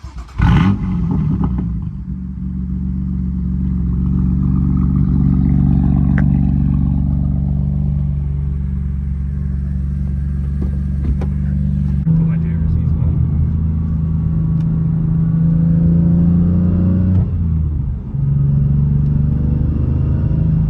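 A BMW F80 M3 with a single mid pipe exhaust and Dinan intakes drives close by, its engine droning and shifting pitch as it pulls through gear changes, while people talk over it.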